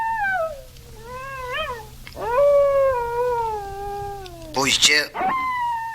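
A wolf's long, wavering howls glide up and down in drawn-out cries, with a voice speaking and a brief rough burst near the end.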